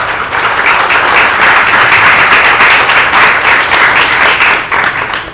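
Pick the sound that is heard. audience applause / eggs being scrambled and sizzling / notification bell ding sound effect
audience applause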